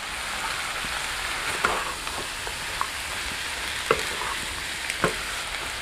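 Ginger, garlic and cashews fry in a pan for butter chicken, a constant close hissing sizzle with occasional louder pops and spatters, no talking.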